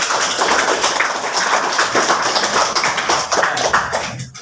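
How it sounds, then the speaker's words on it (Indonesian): Students clapping together in a classroom, a loud, dense, continuous patter of many hands that holds steady for about four seconds before breaking off abruptly at the end. "Kasih tepuk tangan dulu"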